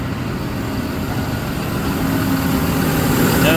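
A Taylor x360m machine, freshly fitted with a new valve, runs at a steady idle, a constant close-up mechanical drone that swells slightly louder toward the end.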